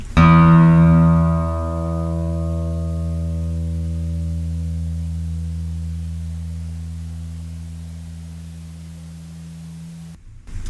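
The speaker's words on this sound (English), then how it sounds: "So this is E, the low E, also known as the 6th string." The open low E (sixth) guitar string plucked once, ringing out and slowly fading over about ten seconds, clear and close with no other sounds.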